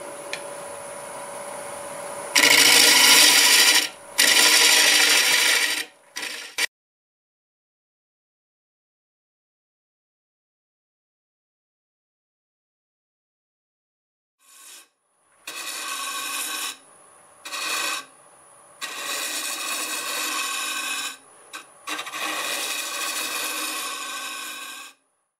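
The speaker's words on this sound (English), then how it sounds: "We're spinning around 820 RPM, half-inch bowl gouge." On a wood lathe spinning at about 820 RPM, a half-inch bowl gouge cuts a bowl in loud, harsh scraping bursts. A long silent gap separates an early series of cuts from a later run of repeated passes.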